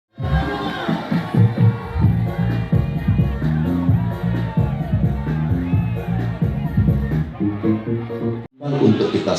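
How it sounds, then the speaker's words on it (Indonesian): A crowd watching Indonesia's final presidential debate together applauds and cheers for the three presidential candidates, producing dense, loud, continuous clapping mixed with shouting. The noise cuts out briefly near the end, then resumes. "silakan kita berikan tepuk tangan dan apresiasi untuk ketiga calon presiden yang sudah menyampaikan visi misi dan program kerja mereka"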